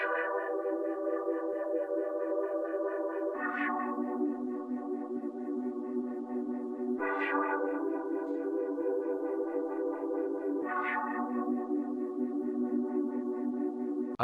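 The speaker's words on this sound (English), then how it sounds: "The first sound that I used comes from Loophole's analog live bank, which is called Bomb." Loophole analog live bank sample called Bomb, played dry without effects: a sustained soulful chord pad that shifts to a new chord about every three and a half seconds, with a bright attack at each change, alone.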